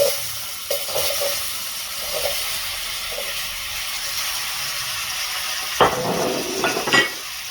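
Cut mango pieces sizzle in a hot pan spiced with turmeric and are stirred, making a steady hiss with scraping and clattering stirring strokes close by, louder toward the end.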